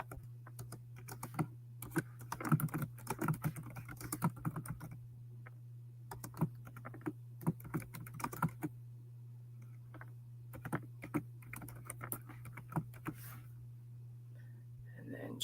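Typing on a computer keyboard comes in irregular bursts of quick, light key clicks with short pauses between, close and fairly quiet over a steady low electrical hum.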